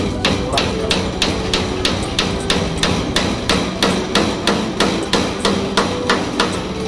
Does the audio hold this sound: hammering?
yes